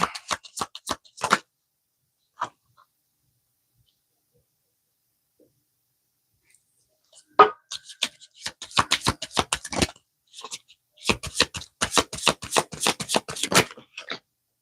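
Tarot cards handled and laid out in a row: crisp snapping and slapping of cards in quick clusters, loud and close, with a long quiet pause between bursts.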